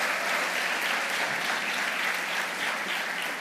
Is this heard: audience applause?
yes